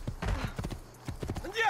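Horse hooves clip-clopping at a gallop in the video game Assassin's Creed II, a rapid rhythmic run of hoofbeats heard under someone talking, with a brief whinny-like sound near the end.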